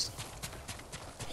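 Horse hooves trotting in the video game Ghost of Tsushima, a steady clip-clop rhythm of repeated hoof strikes, moderately loud and close, with no talking over it.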